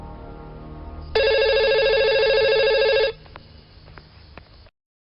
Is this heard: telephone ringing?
yes